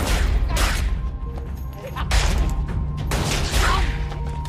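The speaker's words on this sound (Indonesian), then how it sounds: "anggota Yakuza ini terlibat adu tembak dengan si koboi" Film gunfight between a Yakuza member and a cowboy, with several loud booming shots and crashing impacts in bursts over a rumbling soundtrack.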